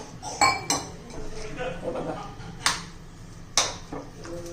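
Rava uttappa batter is mixed in a bowl with a metal spoon, producing a few sharp clinks against the bowl between softer stirring sounds, close and fairly quiet.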